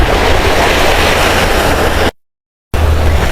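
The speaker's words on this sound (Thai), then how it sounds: "อยากให้ทุกคนเห็นคลื่นอ่ะ" Sea surf rolling onto a beach in Surat Thani, Thailand, a loud continuous roar with low wind rumble, cut by a brief silent gap before the waves resume.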